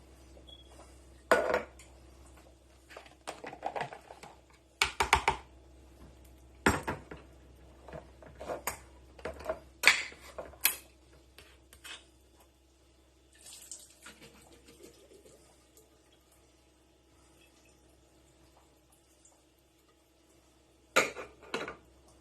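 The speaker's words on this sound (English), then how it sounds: "So I'm going to strain them to get all the juice out." Canned mixed vegetables (green beans, corn, carrots and lima beans) are strained to drain their juice, with intermittent clinks and clatters of a metal strainer and pot and soft trickles of liquid in a quiet kitchen.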